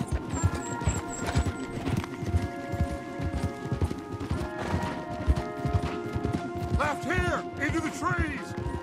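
Horses gallop hard in Red Dead Redemption 2, a steady rapid drumming of hooves close by throughout, with a neigh near the end and voices talking over the ride.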